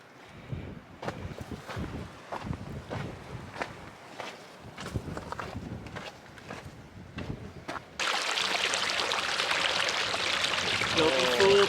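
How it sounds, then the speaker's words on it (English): Footsteps crunch along a Pacific Crest Trail path at first, then a steady broadband rush of flowing water from Kitchen Creek, a mountain creek, takes over, close and continuous. "There's our next water source. That's Kitchen Creek."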